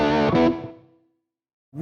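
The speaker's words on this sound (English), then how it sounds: "you will have heard a really nice reverb that they spent quite a bit of time on the Lone Star" A Mesa Boogie Lone Star amp's analog spring reverb lets a distorted electric guitar chord ring out and decay smoothly into silence, before a new note enters at the end.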